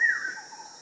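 A single bird in an outdoor village setting gives a clear whistled call that slides downward and fades, fairly close and alone, with a faint steady high tone behind it.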